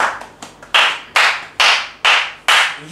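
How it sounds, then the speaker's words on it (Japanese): Loud, close hand clapping: six sharp, heavy claps in a steady rhythm, each ringing briefly, with no other sound around them. "うるさいお前の拍手"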